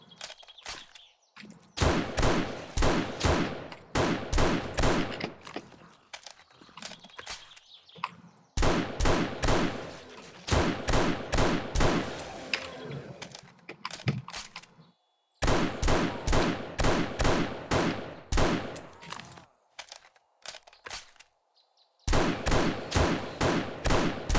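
Rapid bursts of gunfire from weapons in the video game 7 Days to Die, loud and close, firing in long strings of shots separated by short pauses while reloading.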